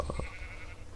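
Sheep in the Minecraft video game bleats, with two short bleats close together at the start followed by a quieter electronic tone lingering briefly.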